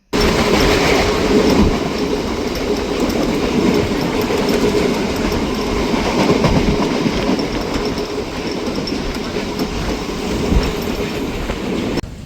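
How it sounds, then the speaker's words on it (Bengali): Interior of a local train running from Lakshmikantapur to Namkhana, a loud continuous rumble of wheels on track with rhythmic clickety-clack, rattling carriages and occasional faint squeals, steady throughout. "তো আমরা নামখানা যাওয়ার জন্য ট্রেনে উঠে পড়লাম"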